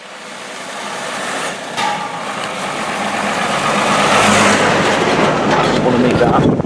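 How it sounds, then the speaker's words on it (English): Big vehicles loaded with propane tanks pass on an Indian road, a rising rush of heavy engine and tyre noise that swells to a loud roar as they go by, with clattering. "Fairly big vehicles coming around as well, with full of propane tanks"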